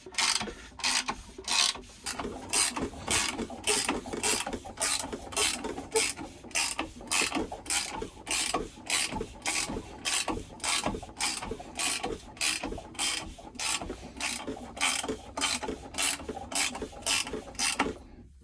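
A rebuilt Mercedes-AMG M113 V8 from a W202 track car is turned over by hand on the bench, giving a steady run of sharp, evenly spaced mechanical clicks, like a ratchet, close up.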